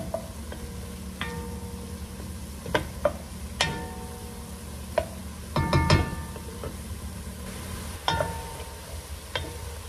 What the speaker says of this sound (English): Stir that up, and we're gonna let that cook in